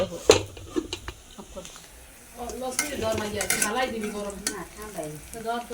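Bottle gourd (lau) frying in a pan on an LPG gas stove: metal clatter and scraping over a low sizzle, then someone talks over the frying for most of the rest.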